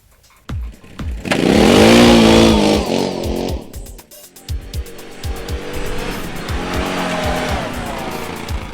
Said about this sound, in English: this week I've been testing the biggest and baddest ATV on the market today, Can-Am's Outlander 1000 XT